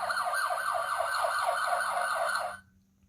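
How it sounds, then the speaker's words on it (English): Police car siren wailing in a fast, steady up-and-down warble, loud and continuous for about two and a half seconds before it cuts off abruptly into quiet. "The loud siren warns other drivers to move aside and let the police car pass."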